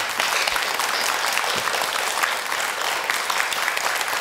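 Dense, steady applause from a crowd of temple worshippers during a Buddhist monk's talk, a continuous wash of many clapping hands at even loudness throughout.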